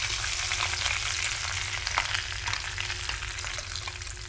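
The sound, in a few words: ground masala frying in tempering with cumin and curry leaves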